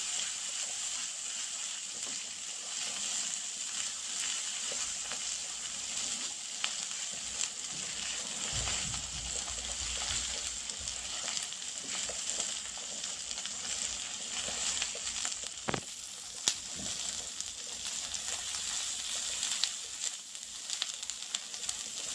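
Ginger garlic paste fries in hot oil in a pan, producing a steady, soft, crackling sizzle that carries on evenly for over twenty seconds. Occasional light clinks and sputters break through the hiss.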